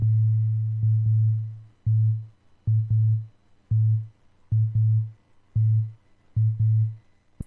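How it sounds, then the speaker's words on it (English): A deep sub kick built from a heavily detuned sine wave on an analog synth, with a quick release, pulses in a steady repeating pattern of booming low tones, each note cut short with brief gaps between. "Now the sub kick I made with the analog synth. It's just a normal sine wave detuned by a lot, so it sounds really deep."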